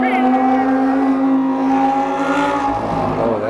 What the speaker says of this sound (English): we gotta wait for the motorcycles